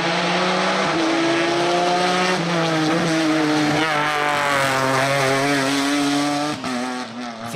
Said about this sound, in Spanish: Apretaba el Marbellí con su Ginetta G55 GT4